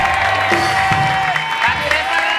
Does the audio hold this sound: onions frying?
no